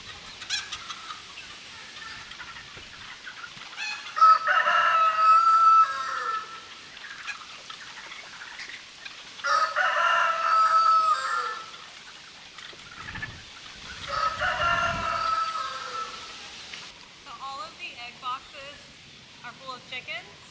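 Farm chickens cluck and squawk in bursts around a coop, with a rooster-like call among them, while a person speaks quietly nearby between the bird noises.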